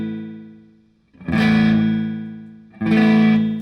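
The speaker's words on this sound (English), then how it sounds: "you can shorten those delay times. You can turn the delay up and turn the repeats up, or the feedback, like some of them call it, and you can actually fake reverb out of it." Two distorted electric guitar chords ring out through a delay pedal set to short times and high feedback, each one smearing into a dense, reverb-like wash that slowly fades before the next strike.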